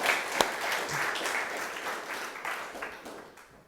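A Thanksgiving gathering gives a round of applause to its volunteers and chefs. Dense clapping from a crowd starts strong and gradually fades toward the end, with no one speaking over it.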